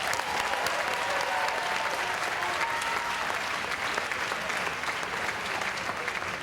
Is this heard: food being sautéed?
no